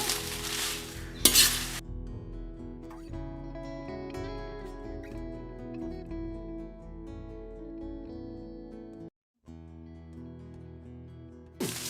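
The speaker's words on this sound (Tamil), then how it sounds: "இப்படியே கொஞ்சம் கொஞ்சமாக எல்லாத்தையும் வறுத்து எடுக்கணும்." Soft sizzling and scraping in a pan as spices, including cinnamon, are dry roasted, stirred and tossed, with occasional light clinks of a utensil against metal.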